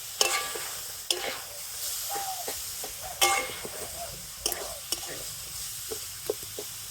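Coconut and jaggery stirred together in a pan for a palm-fruit sweet filling, a soft scraping and faint sizzle with spoon knocks and clacks repeating irregularly, close and moderately quiet throughout.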